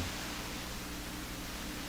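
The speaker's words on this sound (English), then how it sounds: "Now we are hearing a fair bit of hiss" Steady broadband hiss from a Hammarlund SP-600 communications receiver with no AVC voltage, a constant even static wash with no other sounds.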